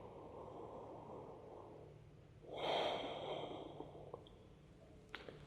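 Midway through a mobility routine, one deep, audible breath is drawn in close to the microphone, a short rushing inhale above a quiet room hiss, followed by a few small soft clicks.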